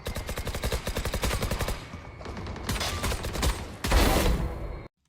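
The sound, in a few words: gunfire while shooting and strafing in a video game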